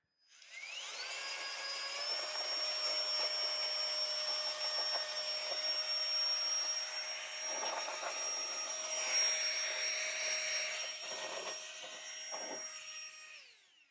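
A handheld Dust Buster vacuum cleans a computer case with a steady, high-pitched motor whine that runs the whole time, its pitch wavering slightly as the nozzle moves, alongside some clicks and bumps near the end.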